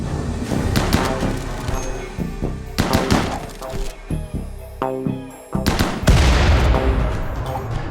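Round attack drones blowing up in RimWorld amid bursts of gunfire, with several sharp blasts and crackling rattles in quick, uneven succession, some louder booms near the end.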